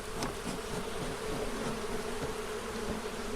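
Honeybees in an opened hive stacked with three honey supers, buzzing as a dense, steady, close swarm drone that holds without pause.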